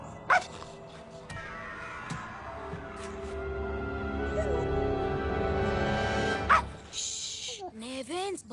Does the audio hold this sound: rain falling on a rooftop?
no